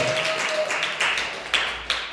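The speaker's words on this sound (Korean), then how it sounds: "우리 힘내라고 박수, 경례라고 박수합니다" An audience at a church revival meeting claps, with a few sharp, scattered claps rising above a steady murmur of room noise.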